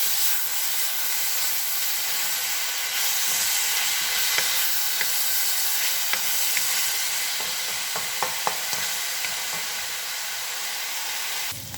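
Vegetables sizzling and stir-frying with steam in a wok, a loud continuous hiss with occasional scraping and stirring clicks, no talking.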